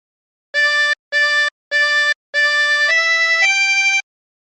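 Harmonica playing a phrase of the hymn Be Thou My Vision, three short detached notes followed by three longer sustained ones that step upward, clear and close, with no talking.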